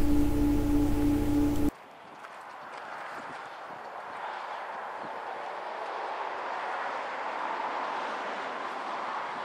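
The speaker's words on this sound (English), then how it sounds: "at least the train is slowing down." A train rumbles past nearby with a rhythmic clatter of wheels, after a brief tonal sound at the start.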